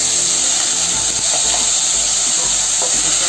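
Dried fish rubbed with salt and turmeric dropped into hot oil in a wok, giving a steady loud sizzle and hiss with a few soft bumps as pieces land, no talking.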